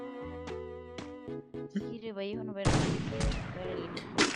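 Gunfire in a 4v4 ranked online shooter match, a dense burst of shots erupting partway through after a stretch of tonal game music and effects, loud and continuous to the end.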